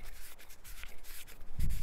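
Sandpaper rubbed over a telephone body in short close scratchy strokes, light and uneven, ending in a louder low bump.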